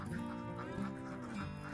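Ducks on an egg-laying duck farm, a low-level continuous chorus of overlapping quacks and nasal calls, with no voices.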